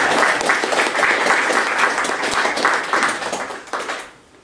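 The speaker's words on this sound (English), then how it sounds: "We should first do a little applause and then questions." A conference audience gives steady, dense applause after a talk on Erlang, loud and sustained for about four seconds before fading out.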